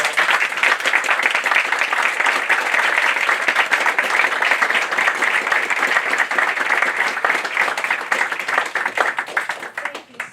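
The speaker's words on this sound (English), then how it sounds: "Round of applause." An audience at a bookstore author event with James Clear at Gramercy Books claps in sustained, dense applause that carries on evenly before tapering off at the end.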